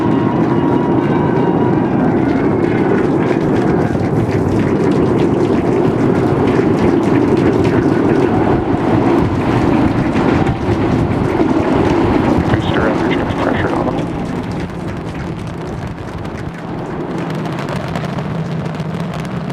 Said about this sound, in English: We are seeing 33 out of 33 Raptor engines ignited.